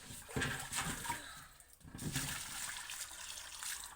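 Rice is washed in water at close range, with sloshing, swirling and trickling that rise and fall over a few seconds at moderate loudness with no talk.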